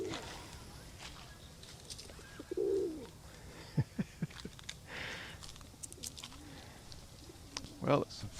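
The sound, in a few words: pigeons cooing near a pond at Osaka Castle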